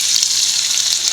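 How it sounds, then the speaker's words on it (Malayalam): A glass of water poured into a hot pan for broken wheat upma produces a loud, close, continuous hiss and rushing splash over a brief moment, with no talking. "1 ഗ്ലാസ് വെള്ളം ഒഴിച്ചു കൊടുക്കാം."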